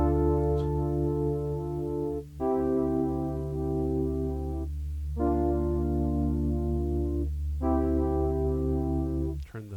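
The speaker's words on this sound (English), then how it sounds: "it's almost like a brass string patch" Prophet 6 synthesizer playing a brassy string-like patch with the filter envelope attack at zero, sustained harmonic chords changing every couple of seconds with brief gaps between them, steady and fairly loud with no talking.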